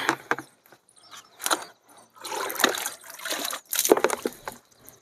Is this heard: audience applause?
no